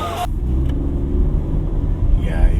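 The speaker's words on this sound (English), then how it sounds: "you can hear the 3-cylinder from the inside" Interior drone of a 2025 Suzuki Dzire Hybrid three-cylinder engine, a steady low rumble heard from the cabin, fairly loud and continuous with no talk over it.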